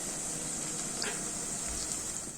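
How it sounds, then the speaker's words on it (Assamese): Marinated chicken frying in oil until golden brown, giving a steady, even sizzle that stays close and constant throughout with no voices. "আপোনালোকেও এইখিনি ভাজি থাকিব।"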